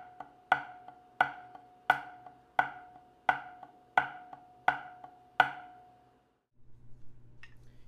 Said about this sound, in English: Now I'm going to play the exact same exercise, but only emphasizing the downbeats.